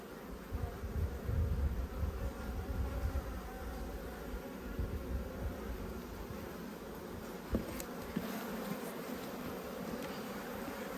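Honey bees buzzing around an opened hive in an Australian backyard apiary, a dense steady drone close by that fills the whole stretch with no talking.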